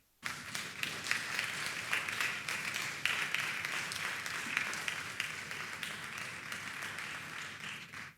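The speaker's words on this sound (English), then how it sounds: "Let's keep clapping." Audience applause at a workshop after a talk, sustained dense clapping from many hands, fairly quiet and distant, continuous for about eight seconds with no speech.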